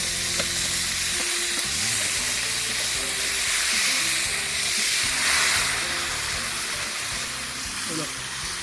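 Calamari and giant squid sizzle in a pan over a wood fire, a steady broad frying hiss with crackle running throughout, while a voice talks over it.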